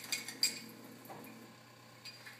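A spoon stirring a small homemade syrup of water and sweetener in a bowl or cup, with a few light metallic clinks at the start followed by soft, faint scraping.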